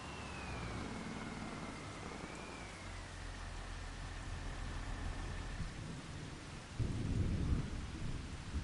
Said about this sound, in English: We just drove through our tornado.